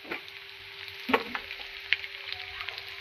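Masala spices hit hot oil for a spicy vaam fish curry. A soft, steady sizzle follows a brief louder crackle and light stirring scrapes in a pan, close and fairly quiet.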